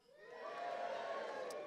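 A dinner audience at a charity awards event cheers and whoops, the noise swelling quickly within half a second into a sustained crowd roar with scattered shouts.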